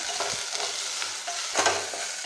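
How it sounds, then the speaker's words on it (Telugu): Cut okra fries in a pan with a steady close sizzle, broken by a few scraping stirs and clinks of a utensil against the pan, with no voices. "కట్ చేసి పెట్టుకున్న బెండకాయలు వేసుకొని వేయించుకోవాలి"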